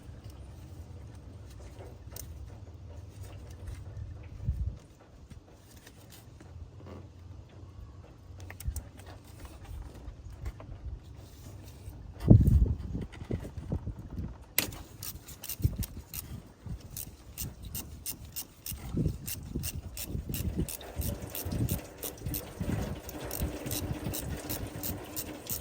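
A hand tool works loose the last thermostat bolt underneath the engine of an Infiniti G37S coupe: quiet scraping and a sharp knock, followed by a fast run of ratchet-like clicks at close range, with no talking.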